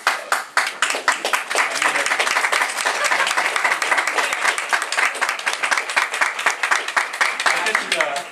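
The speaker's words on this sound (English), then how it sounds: "she deserves a round of applause" A crowd at the New Hampshire State House gives Karen Testerman a round of applause, dense steady clapping that starts sharply and carries on evenly throughout, with a faint voice or two beneath it.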